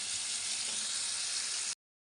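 Potatoes fry in hot oil for a prawn curry with pointed gourd, giving a steady, close sizzling hiss that cuts off suddenly into silence.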